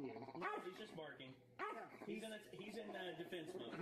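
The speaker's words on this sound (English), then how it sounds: "He's just barking." Pet dogs barking in bursts at a home, with nearby voices talking and laughing over and between the barks.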